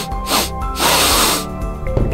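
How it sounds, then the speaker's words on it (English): Close sniffing at roses, two strong breathy inhalations through the nose, one short and one longer, loud and near with a faint trailing breath afterward. "Take a sniff."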